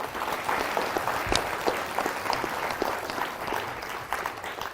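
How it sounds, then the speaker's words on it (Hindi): A group of children claps loudly in a TV studio on an India News show, a vigorous, continuous patter of many small hands with sharp individual claps popping out of the mass throughout. "ताली बजाओ"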